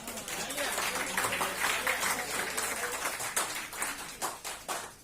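Applause from the audience at a Hindi quiz competition rises as a dense, moderate clapping wash with people talking over it, then thins into scattered claps.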